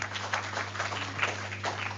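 Audience applause for Professor Sanjay Jain at a research-writing workshop, a steady wash of many hands clapping at moderate level over a constant low hum, with no voices.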